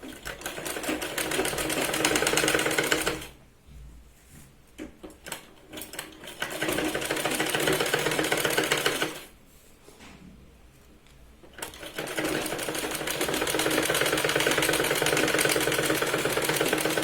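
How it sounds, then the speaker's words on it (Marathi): A sewing machine stitches along the edge of a sherwani for a boy, running loud and steady in long bursts with two brief pauses where it stops. "परत कडेने आपण शिलाई लावून घेऊ याला."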